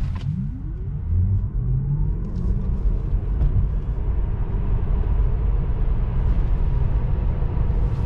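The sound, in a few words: Tesla RWD car driving test on Michelin summer tires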